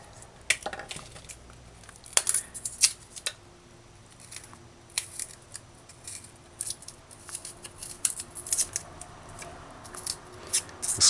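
Ackee is cut and trimmed by hand, with the sore spots taken off. Crisp snipping and clicking sounds come close and irregular, scattered through a quiet background with no speech.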